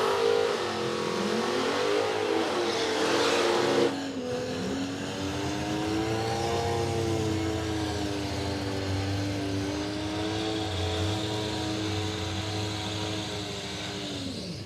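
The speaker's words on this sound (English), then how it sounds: "Getting plenty of heat in the tyres, Anderson." A Cortina drag car at Palmyra Raceway does a long, loud burnout to heat its tyres, the engine revving hard and steady for the first few seconds, then droning on with shifting, wavering pitch and continuous tyre noise.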